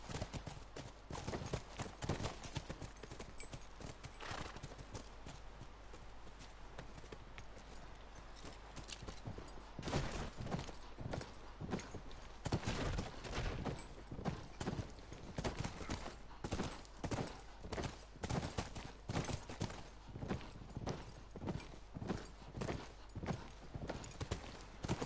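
Horse hooves clip-clop steadily in The Last of Us video game, a quick, even rhythm, fairly close, with occasional louder thumps and a faint background hum.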